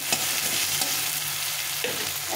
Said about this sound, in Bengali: পেঁয়াজটা আর টমেটোটা অনেকটা ভাজা হয়ে গেছে